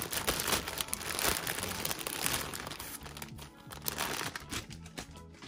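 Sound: plastic packaging crinkling as Pichu plushie is unwrapped

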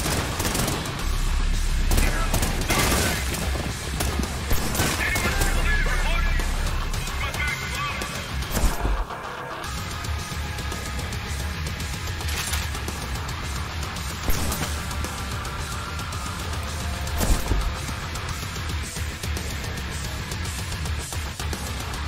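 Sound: dual-wielded shotguns firing in the video game Trepang2

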